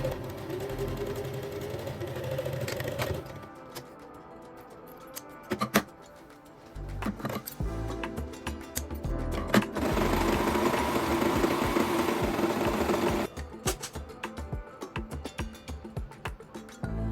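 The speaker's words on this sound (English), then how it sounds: "Place the front pieces right sides together and sew the front crotch seam." Domestic sewing machine stitching the crotch seams of wide-leg pleated shorts, running in steady bursts with pauses between them; a continuous motor whir with a rapid needle clatter, close and alone.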